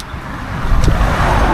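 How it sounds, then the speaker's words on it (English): A car passes close by on a narrow road in rural Scotland, a steady rushing engine and tyre roar that swells slightly midway, heard from the roadside with light rain conditions and no voices. "Hey, car ahead!"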